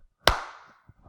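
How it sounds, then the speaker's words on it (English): A single sharp hand clap rings out close and loud, leaving a short echoing tail in a quiet room, followed by faint soft knocks. "Let me do some claps real quick"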